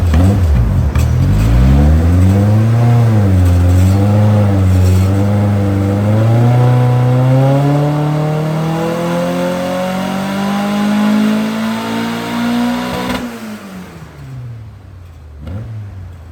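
A turbocharged Toyota AE86 with a 1.6-liter engine pulls hard on a dyno, revs climbing steadily in one long loud sweep before snapping off, then dropping back to idle, with no talking.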